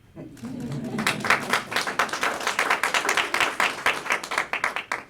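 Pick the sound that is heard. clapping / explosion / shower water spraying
clapping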